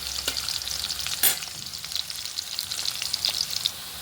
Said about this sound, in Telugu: ఇలా కొంచెము ఫ్రై అవుతామండి ఆనియన్స్ ఇది కొంచెం బ్రౌన్ కలర్ అయితే రావాలి